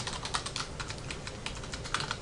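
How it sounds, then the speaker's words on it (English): Steady, quiet clatter of fingers typing on a computer keyboard, with rapid irregular keystrokes close up and no talk. "Just typing in description"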